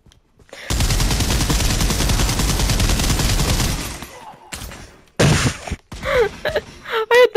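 Sustained automatic gunfire in the World War 2 mode of the Pavlov video game, a loud rapid burst lasting several seconds, then a pause and a few shorter shots mixed with brief vocal sounds.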